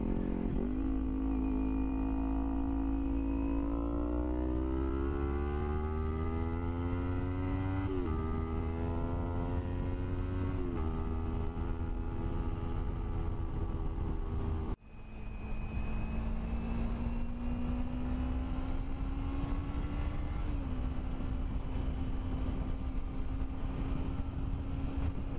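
A Kawasaki Ninja 300 fitted with a Danmoto GP Extreme exhaust accelerates hard, its engine note climbing through gears with a brief cut midway, then pulling up again, loud and close throughout with no talking.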